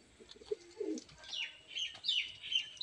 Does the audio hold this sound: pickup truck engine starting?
no